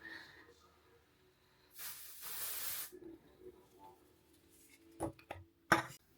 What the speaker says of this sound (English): This is just the Amika Perk Up dry shampoo